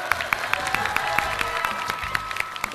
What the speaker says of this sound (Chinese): 咱们用热情的掌声告诉大家